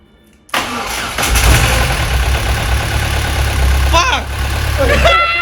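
A car engine cranks and fires after a brief silence, then runs at a loud rough idle with uneven revs from throttle blips, close by, with brief indistinct voices underneath.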